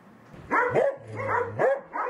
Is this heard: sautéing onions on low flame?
no